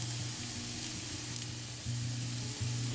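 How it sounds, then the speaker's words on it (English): Steady hiss and sizzle of garlic, ginger and onions frying in a hot pan, continuous and close, with a low droning hum underneath. "You start by frying up some garlic, ginger and onions"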